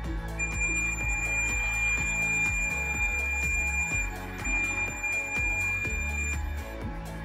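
A multimeter's continuity beep while probing a resistor on a dead ASUS VivoBook S14 laptop motherboard: a steady, unbroken high-pitched tone held for several seconds, with faint clicks and rustling underneath.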